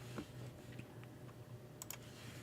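Faint computer keyboard typing, a handful of scattered light key clicks over a low steady hum, ending with a couple of sharper taps.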